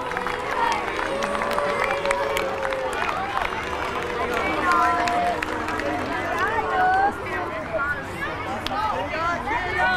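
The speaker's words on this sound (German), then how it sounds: "grossen Applaus für IB" A crowd in a stadium cheers and claps for the Swiss champion football team as it is introduced, a busy roar of voices, shouts and applause with an announcer talking over it.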